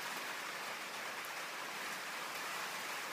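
Rain falls steadily and evenly, a soft broadband hiss that stays constant and fairly quiet throughout.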